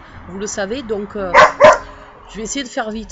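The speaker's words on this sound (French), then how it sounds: "désolé, c'est mon chien." A pet dog gives two or three short, sharp barks midway, loud and close, between stretches of someone talking in French in a home.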